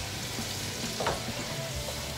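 Onions and garlic frying in a pan give a steady, close sizzle and crackle that stays even throughout, with no talking.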